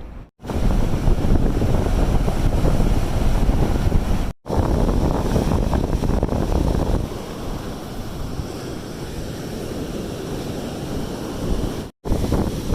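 Waves breaking on a steeply sloped sandy beach, a steady loud roar of surf mixed with heavy wind buffeting across the whole stretch, with two brief dropouts.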